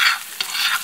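Onion and carrot frying in sunflower oil in a skillet, a steady close sizzle with a brief stirring scrape midway, no voices.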